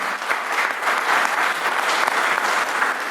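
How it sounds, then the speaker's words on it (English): Loud, continuous applause from the audience at a Moore County, North Carolina Board of Education candidate forum, many hands clapping in an even dense wash with no talk over it. "Let's give all these candidates a round of applause and thank them for coming out tonight."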